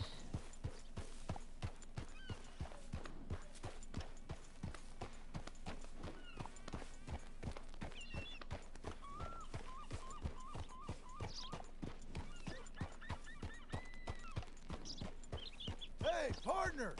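Steady clip-clop of a horse's hooves in Red Dead Redemption 2, a regular close rhythm of light thuds over several seconds with faint snorts and a brief whinny, under quiet talk.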